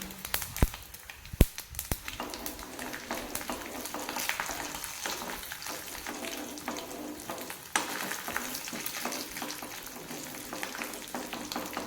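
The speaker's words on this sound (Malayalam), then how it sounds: "നമ്മുടെ കടുക് ഇവിടെ പൊട്ടിയിട്ടുണ്ട്" Mustard seeds, urad dal and dried red chillies fry in hot oil, a close, busy crackle of tiny pops and spits over a soft steady sizzle, with no one speaking.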